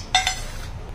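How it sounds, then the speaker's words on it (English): A robotic dog treat dispenser drops a treat into a bowl, giving two quick, light clinks close by over a quiet background. "this ramp opens to dispense the treat into her bowl"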